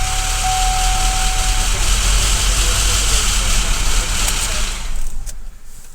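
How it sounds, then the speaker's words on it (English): A car engine idling with a suspected timing chain noise produces a steady low rumble with a faint rattling layer, loud and close, then drops away near the end. "I'm not sure if that's timing chains or something worse"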